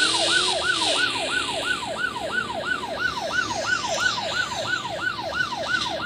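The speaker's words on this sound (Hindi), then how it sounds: "एम्बुलेंस भी आ गई" Wailing ambulance siren from the Police Sim 2022 driving game, a steady rapid up-and-down sweep repeating about every half second, loud and continuous over a low traffic rumble with no talking.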